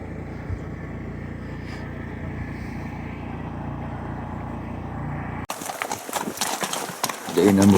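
Three pack horses being readied on a morning in the Alaska mountains for a Dall sheep hunt, with low hoof clip-clop and shuffling under a steady outdoor rumble, then louder close handling noise in the last seconds; people talk nearby.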